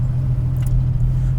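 Steady, loud low-pitched drone of a turbocharged 1980 BMW E12 528i with an M30 engine running under heavy boost, heard from inside the car, an even hum with a faint brief rattle midway.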